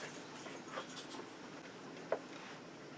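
A dog panting softly nearby, a faint steady breathy rhythm over low room noise, with a small sharp click partway through and no talking.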